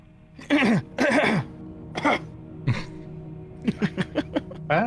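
Someone coughs repeatedly during a tabletop role-playing session, a pair of harsh hacking coughs followed by a string of shorter, quicker coughs and throat-clearing bursts, close and distinct.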